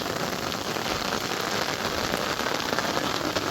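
Heavy rain pours steadily outdoors near a pond during a night frog hunt, a dense, continuous, even hiss of drops striking the ground with no voices.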